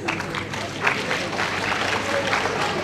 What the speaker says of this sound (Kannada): ಅದಕ್ಕೂ ಚಪ್ಪಾಳೆ ಹೊಡಿತಾ ಇದ್ದೀರಿ.